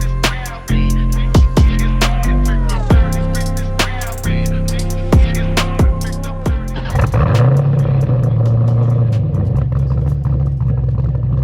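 An LS-swapped Honda S2000 with a V8 in place of the stock engine, heard as a deep, steady rumble in the second half, following a string of sharp, ringing hits.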